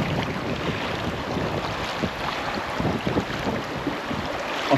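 River rapids rush and churn around a raft in Palomino, Colombia, a loud, continuous wash of water and waves with wind noise and no talk.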